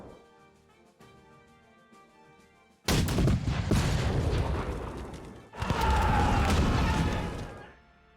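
Cannon fire in the Napoleonic strategy game Victory & Glory: Napoleon: after a quiet stretch, two loud, sustained bursts of booming artillery and crashing impacts rumble one after another, with no talk over them.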